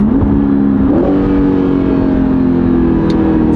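A mid-engine Chevrolet Corvette C8 Stingray sends out a loud, steady engine and exhaust drone, heard from inside the car. The pitch climbs briefly near the start, then holds an even cruising tone without any words.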